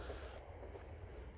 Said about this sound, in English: You can hear the train in the background. There's a train that runs through.